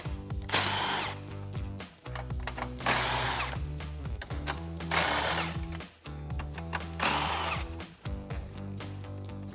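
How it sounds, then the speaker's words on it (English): Impact gun with a deep socket rattles off 10mm bolts at the top of a 2014-2015 Chevrolet Silverado 1500 grille, in four loud, sustained bursts separated by short gaps. "I'm switching over to an impact gun and a deep socket, so let's get those off"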